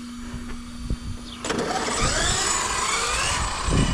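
Electric motor of an RC model car with a Leopard 530kv motor on a 16s lipo battery, spinning up into a rising, high-pitched whine that holds steadily and fairly loud after a brief quieter start.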